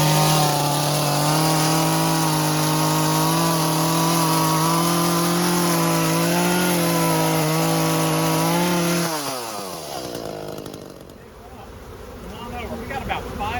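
A chainsaw drones loud and steady close by while trimming branches near a bee swarm, then winds down and cuts out, leaving quieter outdoor background and a faint buzz of bees.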